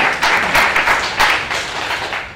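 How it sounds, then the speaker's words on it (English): A crowd claps steadily for a couple of seconds, a dense, even patter of many hands with no voices standing out. "that's applause for you guys for being brave"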